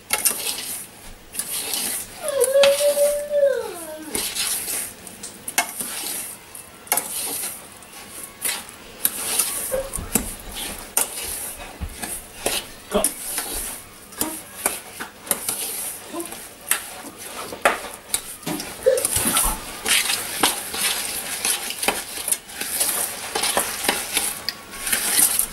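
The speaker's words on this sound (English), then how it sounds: "Mixing the egg out." A beaten egg mixture is stirred and fried in a pan at home during holiday cooking, with steady sizzling and scraping of a utensil against the pan, close and continuous, and a brief voice-like sound early on.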